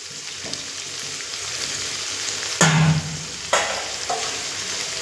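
Malabar spinach sautéed with pre-fried shrimp, potato and pumpkin gives a steady sizzle with two or three sharp scraping stirs of a spatula against the pan.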